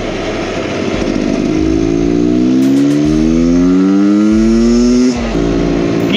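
A street-legal Beta X Trainer 300 two-stroke motorcycle revs hard nearby, its loud buzzing engine note climbing in pitch across several throttle openings before dropping briefly and picking up again.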